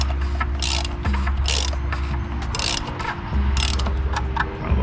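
A ratchet tightens an oil filter on a 2012–2018 Jeep JK Wrangler V6, its pawl clicking in quick, steady bursts of strokes, close and clear, with no voices.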